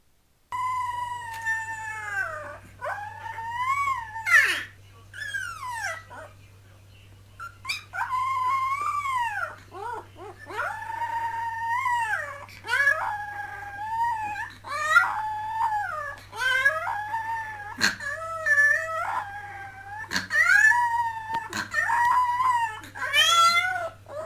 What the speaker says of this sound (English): Look and just listen to this dog howling.